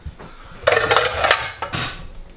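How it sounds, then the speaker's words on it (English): A frying pan is grabbed and set down in a kitchen, giving a short burst of metallic clanks and scrapes with a brief clink after it, close and fairly loud. "Third thing, you're gonna grab a pan."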